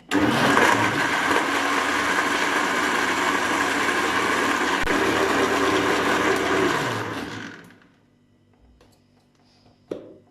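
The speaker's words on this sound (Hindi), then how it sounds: "फिर 2 मिनट के लिए इसे ब्लेंड करेंगे।" A blender whirs steadily for about seven seconds, blending a banana milkshake with ice cream, then winds down to silence, followed by a single faint clunk.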